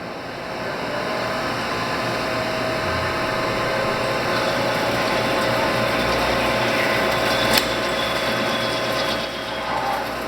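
In a manufacturing plant, a machine loads in another tool with a continuous mechanical whirring and clicking. It holds at a fairly steady level with a few brief clanks, and one sharp click comes near the end.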